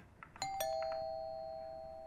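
A two-tone doorbell chimes inside a house in the horror game Fears to Fathom – Home Alone, a bright ding followed by a sustained dong that rings out and slowly decays, heard alone.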